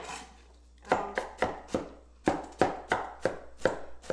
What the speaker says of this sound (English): Here's chopping it. So just chop it up a little bit finer.